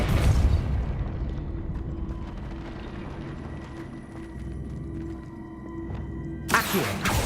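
Depulso spell cast in Hogwarts Legacy on PS5: a low, steady rumbling soundscape that ends in a sharp, loud burst of force near the close.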